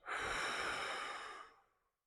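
A single long, deep breath out through the mouth during a diaphragmatic breathing exercise for back pain, close and soft, fading away after nearly two seconds with no talking.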